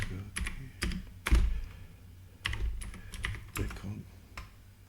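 Keys clatter on a keyboard as a terminal command is typed on a Raspberry Pi Zero setup, with irregular bursts of close clicks and short pauses between them.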